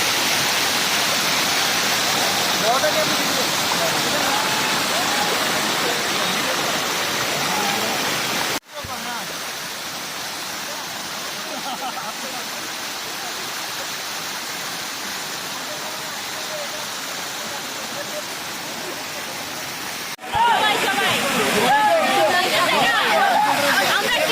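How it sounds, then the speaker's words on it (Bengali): Napittachhara waterfall at Sitakunda roars as a dense, constant rush of falling water, loud and close throughout, briefly shifting in level twice, with a voice faintly present beneath the noise. "এই ঝর্ণাটা অনেক ডেঞ্জারাস, কূপটা।"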